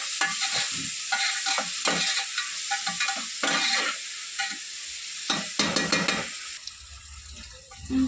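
Onions sautéing in a pan for biryani sizzle loudly while a spoon stirs and scrapes them in repeated bursts, close and steady with no talking.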